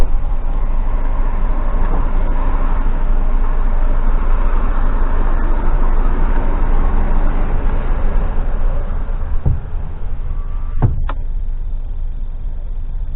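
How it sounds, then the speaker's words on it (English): A steady low rumble of many HGV truck engines idling together, continuous and loud, with a couple of brief knocks near the end. "Loads of engines running."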